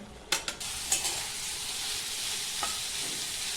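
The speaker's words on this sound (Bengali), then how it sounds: "এদিকে সবজিগুলোকে একটুখানি হালকা ভাজা করে নিচ্ছি" Vegetables for pulao, parboiled in a little water, fry lightly in a pan with a steady close sizzle, a few sharp spoon-and-pan knocks near the start and another clink later.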